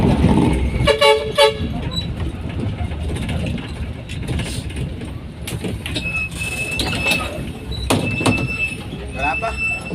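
Manila MRT train rolling past with short horn toots near the start, its rumble and clatter mixed with street noise while people talk nearby.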